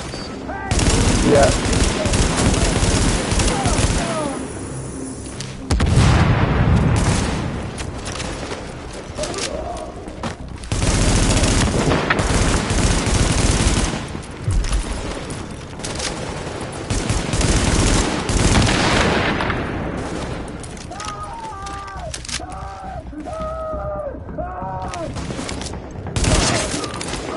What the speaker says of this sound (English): I shot him like twice in the head.